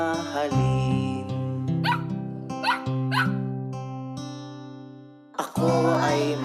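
A pet Shih Tzu puppy yips in short, sharp barks, several spaced bursts over steady background music, fairly close and clear.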